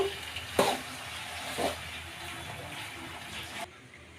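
Pasta macaroni masala frying in a pan over a medium flame, a steady soft sizzle with a couple of brief stirring scrapes, close and moderately quiet, ending abruptly.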